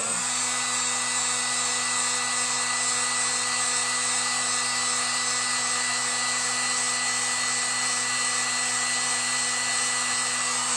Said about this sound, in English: I'm going to use my heat gun. I'm going to put it on the hottest setting, and then I'm going to heat up this glue.